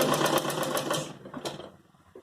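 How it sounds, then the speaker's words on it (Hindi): A sewing machine stitching a Patiala salwar runs in a quick steady whir for about a second, pauses, gives a short burst, then falls quiet, close and alone. "अब यहाँ पर मैं सिलाई लगा दूंगी।"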